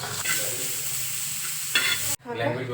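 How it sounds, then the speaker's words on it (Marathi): A medium-sized onion roasting in a pan, a steady close sizzle with a couple of scraping stirs, cut off briefly by a sudden drop before the sizzling resumes. "मी इथं कांदा घेतला आहे एकदम मध्यम आकाराचा एक कांदा घेतला आहे व्यवस्थित असा भाजून घ्यायचा आहे आपल्याला"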